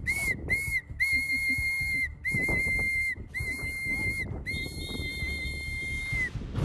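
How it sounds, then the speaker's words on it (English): A shrill whistle is blown in a series of short and long blasts, loud and close, with brief gaps between. "Why have we blown the whistle?"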